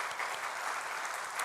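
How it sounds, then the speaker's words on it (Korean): Soft, steady applause from a church congregation during a Korean Sunday service, a brief even patter of many hands at moderate distance with no voices over it. "박수 한번 주세요."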